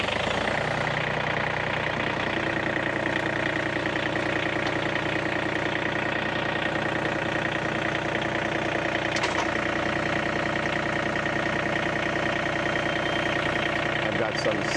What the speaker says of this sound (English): Let's get the old John Deere fired up.